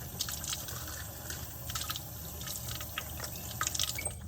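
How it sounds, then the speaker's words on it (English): Tap water runs and splashes while cups are rinsed at a lab sink, a continuous close trickle with irregular drips and louder splashes scattered through. "Then you just need to rinse both of the cups well with tap water."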